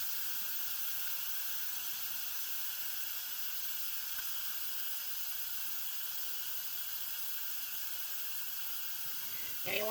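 A pressure cooker hisses steam in a kitchen, a steady, even jet held for the full length, with a brief clatter at the very end.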